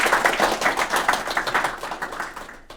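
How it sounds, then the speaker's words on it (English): Audience at a youth empowerment program graduation event claps together in a lively, rhythmic patter of many hands, sustained and fairly close before trailing off abruptly at the end. "A round of applause for all of them."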